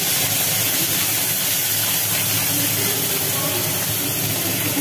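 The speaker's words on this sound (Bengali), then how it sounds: "এবার দিয়ে দেওয়া হলো কড়ার মধ্যে পেঁয়াজ, আদা আর রসুন বাটা" Onion, ginger and garlic paste hits a hot wok and sizzles, a loud, steady hiss that holds without break for the whole stretch, with no one talking.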